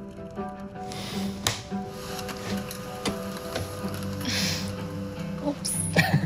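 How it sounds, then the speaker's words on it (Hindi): An office printer runs noisily, whirring steadily with sharp mechanical clacks and ticks as paper feeds through, close and fairly loud. "प्रिंटिंग करने का तरीका थोड़ा वायलेंट है।"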